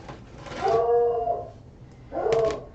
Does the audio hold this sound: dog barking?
yes